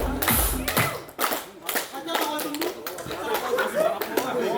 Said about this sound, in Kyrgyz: Кол чапкыла Тынар.